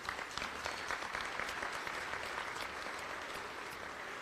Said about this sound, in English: Let's give Echo Lane a big round of applause.